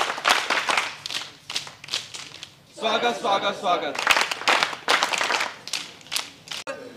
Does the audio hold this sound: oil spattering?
no